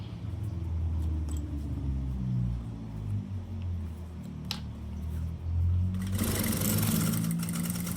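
A sewing machine stitches the edge of a handmade fabric document holder, a steady low motor hum and rapid needle chatter running continuously, growing louder and busier near the end.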